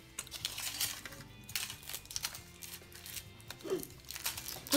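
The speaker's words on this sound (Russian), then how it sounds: "Давай мы откроем второе яичко и посмотрим, что в нем." A Flintstones chocolate surprise egg being unwrapped by hand, with a run of close crinkling and tearing foil rustles and small crunches coming in irregular bursts, no talking.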